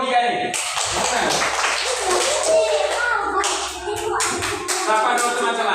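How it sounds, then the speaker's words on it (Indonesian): A classroom of children claps for a group of pupils, a dense patter of many hands lasting several seconds, with children's voices and shuffling mixed in. "Tepuk tangan dulu untuk kelompok 3 ini."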